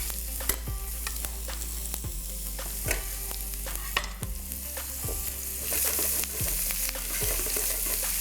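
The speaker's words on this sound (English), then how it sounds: "you just want to saute it lightly so it starts releasing its flavor" Curry leaves and ginger sauté in oil in a pan for a green-bean sabzi. A soft, steady sizzle runs underneath while a utensil stirs and scrapes the pan in sharp, repeated strokes and bits pop now and then.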